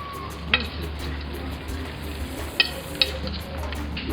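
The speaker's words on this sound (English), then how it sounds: "I'm going to stir it, the whole thing" Burmese-style chicken with bottle gourd is stirred in a pot, giving a continuous moderate sizzle with a few sharp utensil clinks against the metal.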